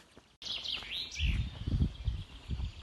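Several small birds chirp and whistle near an observation tower in Szczawno-Zdrój, with quick rising and falling notes at moderate distance over low rumbling from wind or handling.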